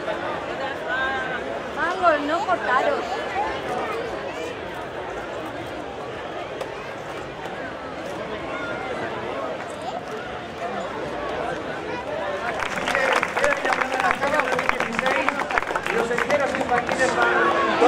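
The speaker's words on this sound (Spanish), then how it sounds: "Un fuerte aplauso para las chicas." Crowd at the Salamanca fairground opening bursts into sustained applause after chatter and shouting, the clapping swelling loud and dense in the final seconds, with voices heard throughout.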